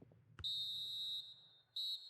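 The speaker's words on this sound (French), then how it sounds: "L'arbitre qui siffle la fin des 45 premières minutes." A referee's whistle ending the first half in the video game FIFA 21, during PSV Eindhoven vs Ajax: one long shrill blast followed by a short second blast, loud and clear with no talk.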